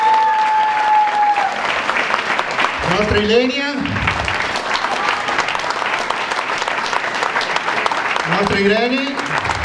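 Sustained audience applause after an amateur theatre performance of Little Red Riding Hood, loud and continuous, while someone speaks over it twice as cast members are introduced.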